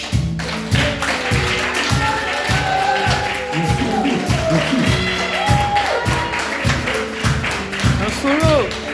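A live concert crowd applauds a drummer, dense clapping and cheering mixed with rhythmic thumps, while a voice speaks over the noise.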